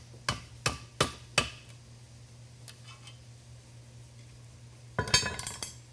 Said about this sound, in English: I just take a screwdriver, a hammer, and separate the belt.